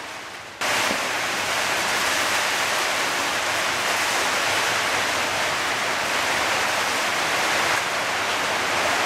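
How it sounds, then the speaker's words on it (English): Heavy rain pours down outdoors beside a motorcycle being worked on for a sprocket and chain replacement, a dense, loud, unbroken hiss that starts abruptly and holds steady throughout with no voices. "it's really chucking it down."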